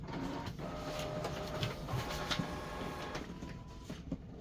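An HP OfficeJet Pro X576dw inkjet printer with clogged printhead nozzles runs a print job, giving a steady close mechanical whir with faint clicks and shuttle movements throughout, no voices.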